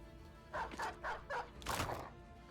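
A released war dog barks several times in Battle Brothers, a rapid run of four short yaps followed by a longer, louder bark burst, fairly faint and close with no talk over it.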